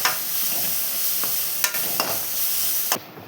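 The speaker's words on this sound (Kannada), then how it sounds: "ಹಾಕಿಸ್ಕೊಂಡು ಅದು ಸ್ಮೆಲ್ ಹೋಗೋವರೆಗೆ ಬಾಡಿಸ್ಕೊಳ್ಳೋಣ" Onions and turmeric sizzling as they are sautéed in a pan, a steady close crackle and hiss broken by a few sharp stirring scrapes and clicks, with no talking.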